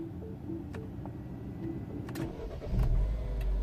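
A Mini Cooper S with the N14 engine is cranked and fires, the quiet ticking background giving way to a sudden louder catch near the end that settles into a steady running rumble.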